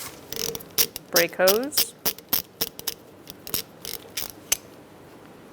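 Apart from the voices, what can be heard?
ratchet with 12mm socket loosening brake hose on Kia Soul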